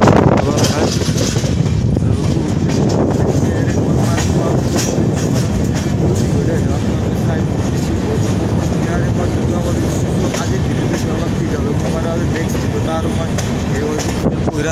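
A train in motion gives a loud, continuous rumble and rattle of rail cars, with wind buffeting the microphone across the whole stretch.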